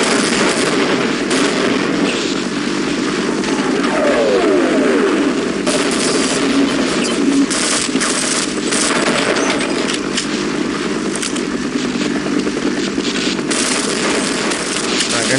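Gunfire and grenade blasts in the Half-Life video game come as dense, rapid bursts of shots and bangs that run without a break, loud and close throughout.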